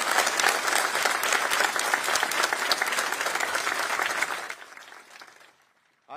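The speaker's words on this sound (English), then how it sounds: "How about a round of applause for this great team of teams to make this happen today?" Sustained audience applause fills a military ceremony redesignating Fort Hood as Fort Cavazos, a dense, steady clapping crowd that thins and fades out near the end.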